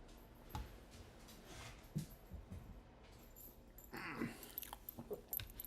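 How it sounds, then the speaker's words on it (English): A dog making quiet whimpering and growling noises in a room, soft and intermittent sounds with scattered rustling between them. "He's my New York family's dog."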